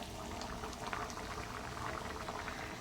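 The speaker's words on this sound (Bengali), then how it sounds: "তো ডাল ফোড়ন দেওয়া হয়ে গেছে তো ফুটছে দেখুন" A pot of tempered lentils bubbles steadily at a low rolling boil, a close, continuous gurgle with no voices.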